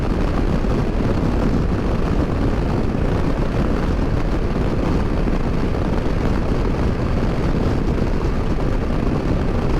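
A Royal Enfield Classic 650 motorcycle ridden fast on an open road in the UK, heard as a loud, constant roar of engine and wind rushing past, dense and unbroken throughout.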